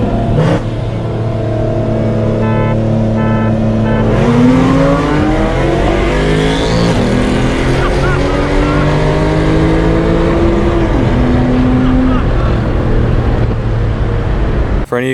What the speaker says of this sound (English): I'll throw in clips of the first race of the TL and the C63